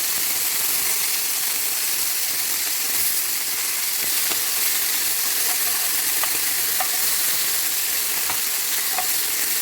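Steady, close sizzling of ribeye steak frying in hot butter, a dense crackling hiss throughout with a few sharper pops and faint clicks of a utensil.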